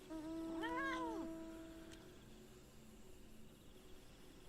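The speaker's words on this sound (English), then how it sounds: "This is a good cat. It's a good meow meow." A cat meows in the video game Final Fantasy XIV: a single drawn-out, rising and falling meow near the start, then a faint steady background hum.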